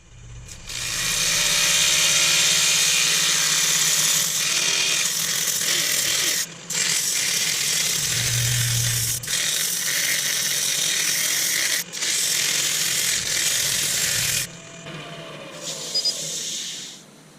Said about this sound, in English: But first I'm going to give it a whiz up with some sandpaper.